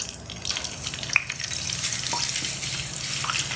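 Steady sizzling and crackling of pork belly frying in hot oil, continuous and close, with a few small pops and no talking.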